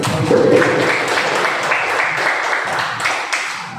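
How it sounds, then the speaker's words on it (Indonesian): Loud applause from an audience at a school culture dissemination event, steady clapping throughout, with a few voices faintly mixed in. "Beri tepuk tangan dulu."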